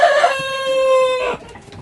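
A farm rooster crows once, loud and close, with a drawn-out call. Clucking comes just before it and a softer trailing note follows.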